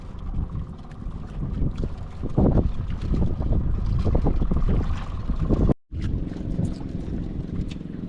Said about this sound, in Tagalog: Nagdiretso yung isang bangka idol.